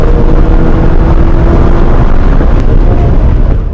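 Race car on a flying lap at High Plains Raceway, a loud, steady engine drone from onboard, heavily buffeted by wind noise and holding one unbroken pitch throughout, no voices.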